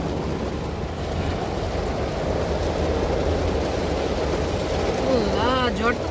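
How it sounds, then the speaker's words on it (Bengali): Rain falls outdoors in Sylhet as a broad, steady hiss that fills the whole stretch, with a brief rising whistle-like sound near the end and no clear talk. "খুব সুন্দর একটা বৃষ্টি হচ্ছে এখন"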